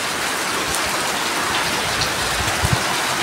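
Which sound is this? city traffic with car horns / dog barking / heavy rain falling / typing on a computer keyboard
heavy rain falling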